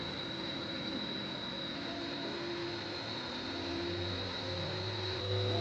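DC motor held at its rated 2000 rpm in a lab alternator setup, giving a faint, steady hum with a thin high whine, continuous and even with no speech.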